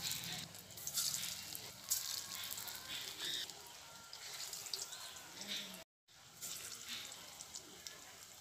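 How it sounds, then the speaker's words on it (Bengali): Chital fish muitha dumplings frying in hot oil, a faint, continuous bubbling sizzle with soft crackles and pops, briefly cut off near the end, with occasional quiet speech. "বাকি মুইঠাগুলো এভাবেই আমি ভেজে নেব।"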